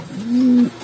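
A racing pigeon gives a single drawn-out coo, a low rising-then-steady tone lasting about half a second, close by and clear with nothing else over it.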